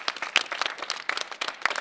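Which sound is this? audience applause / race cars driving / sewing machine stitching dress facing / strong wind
audience applause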